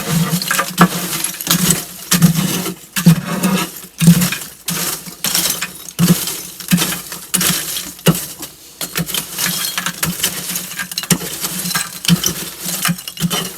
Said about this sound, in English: We just want to give them a good stir and get whatever ash fall down to the bottom here.